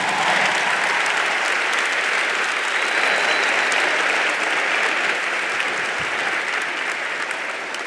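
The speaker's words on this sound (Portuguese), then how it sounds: "Aplauda o nome de Jesus." Loud, sustained applause from a large church congregation, a dense wash of clapping that stays steady throughout without any voices standing out.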